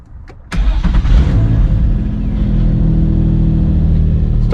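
A Nissan 350Z cranks briefly and fires up, its engine flaring loudly and then settling into a steady, deep idle close by.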